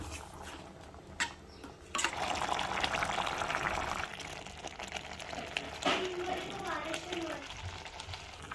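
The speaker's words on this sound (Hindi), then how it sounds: "सब्जी उबलने लग गई है" A thick vegetable curry simmers in a pan, giving a steady bubbling hiss that swells partway through, with occasional soft clinks at moderate, close range.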